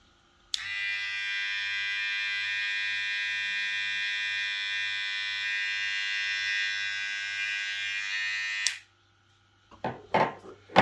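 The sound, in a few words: VGR V007 electric hair trimmer running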